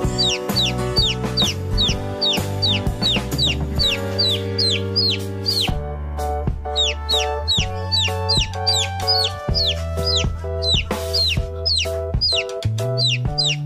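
Chickens cluck in quick, repeated calls throughout, close and lively, over a steady musical backing.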